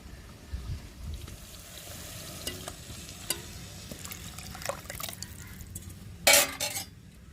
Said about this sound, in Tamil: மசாலையோடய கரைச்சி வச்ச புளியை சேர்த்துக்கிறோம்